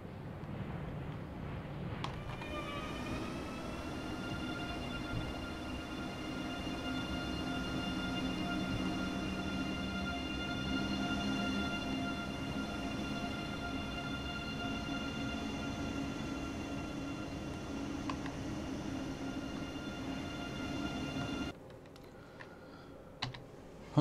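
An ICE 3 high-speed train in the Train Sim World 2 simulator sets off along a main line, a steady low rumble with sustained electric motor tones building gently under faint clicking for about twenty seconds before cutting off.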